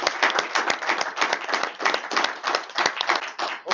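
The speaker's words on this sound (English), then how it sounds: "let's applaud everyone for the time and for everything we've done" Audience applause at the close of a talk on European digital identity: dense, steady clapping from many hands fills the whole stretch at a moderate level, with no voices over it.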